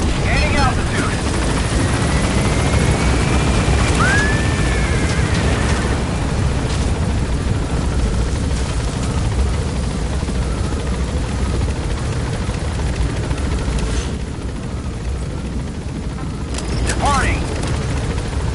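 A helicopter lifts off in the video game Metal Gear Solid 5, its rotor and engine roaring loud and steady throughout, with brief whistling tones and radio voices heard over it.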